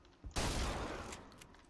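A single loud gunshot blast from a weapon in Bioshock Infinite, with a sharp onset followed by a sustained, noisy roar that slowly fades over about a second and a half.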